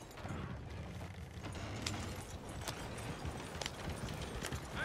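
Hooves of a horse-drawn wagon clip-clopping in Red Dead Redemption 2, a steady trotting rhythm with creaking wheel and harness rattles, moderately quiet and without talk.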